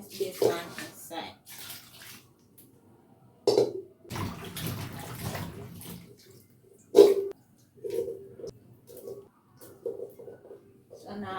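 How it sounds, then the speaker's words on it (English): Yam is washed by hand in water while preparing Ghanaian light soup, making bursts of splashing and sloshing at close range, with gaps between and a voice talking at times. "So now I finished washing my yam."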